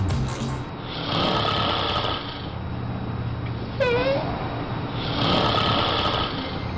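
A person snores loudly and up close in two long, rough, rattling inhaled snores separated by a quieter pause, with a brief squeaky sound in the gap.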